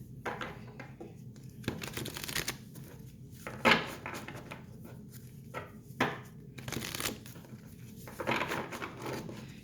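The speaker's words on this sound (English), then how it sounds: "So I'm just going to go ahead and start shuffling." Tarot cards are shuffled by hand in soft, repeated riffling bursts and light slaps, close and quiet, with brief pauses between shuffles.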